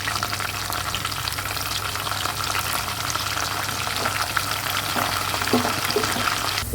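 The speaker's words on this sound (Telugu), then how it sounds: "ఇప్పుడు నెక్స్ట్ నేను కరివేపాకు వేస్తున్నానండి" Curry leaves frying in hot tempering oil for an Andhra-style tomato chutney, giving a steady, dense sizzle and crackle close up that runs unbroken throughout, with no talking.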